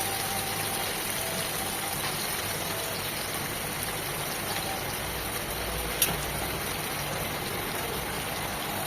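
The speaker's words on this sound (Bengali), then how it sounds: "আমি একটু হালকা করে ভেজে নিলাম।" Fish, a small salted fish, lightly fries in a pan with a steady, even sizzle of hot oil, continuous and close, holding level throughout, with one brief sharp tick near the end.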